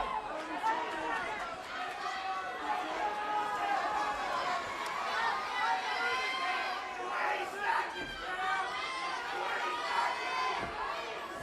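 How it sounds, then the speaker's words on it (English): Crowd at a Legacy Fighting Championship mixed martial arts event roaring and cheering wildly during round 3 of the Kelley vs Aguilar bout, a dense sustained wall of voices with shouts rising and falling, loud and continuous throughout. "This crowd is losing its mind."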